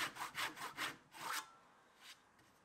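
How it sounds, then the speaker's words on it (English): A tenon saw cuts into a wooden apron rail for an angled, tapered leg base, giving about five close, rhythmic rasping strokes followed by a single fainter stroke, with no talk. "So I make the cuts using my tenon saw to just shy of those knife marks that I made."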